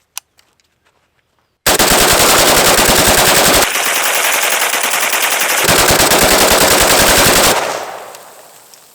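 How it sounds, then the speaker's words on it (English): An AK-47 fires into a frozen pond: a few sharp single shots, then sustained, very loud, close automatic bursts lasting several seconds, ending in a fading echo. "I want to see if we can put some holes in this frozen pond I have behind me with my AK-47 here."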